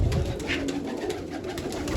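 Soft cooing from Teddy Kalsire pigeons repeats over a steady hiss of background noise, moderately close and continuous throughout.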